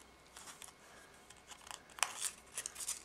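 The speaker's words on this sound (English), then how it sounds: "all you're going to do is wrap it around and take off the tape." Tape pulled free from paper wrapped around a small paper-covered tree trunk, giving quiet crisp tearing rips that cluster and grow louder near the end, close-up with no talking.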